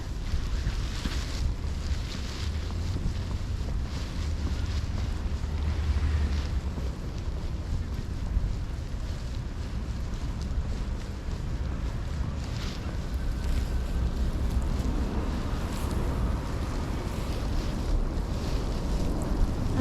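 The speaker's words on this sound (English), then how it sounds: "And it's getting a bit windier" Wind during a nor'easter snowstorm on a New York street, a constant roaring rush with low buffeting gusts, loud and continuous.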